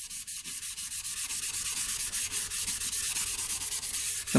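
A green abrasive pad wet with WD-40 scrubs the old coating off a dirt bike piston in quick, rhythmic back-and-forth strokes. The close, raspy rubbing runs steadily throughout with no talk.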